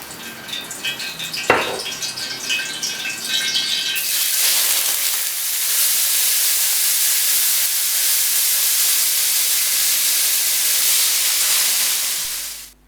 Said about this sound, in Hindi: यहाँ मैंने एक खुली कढ़ाई ले ली है, उसमें ऑयल शामिल किया है और बॉइल्ड पास्ता शामिल कर दिया है।